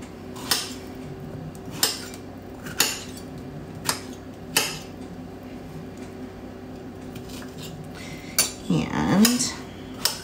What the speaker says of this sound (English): So we just cut these up.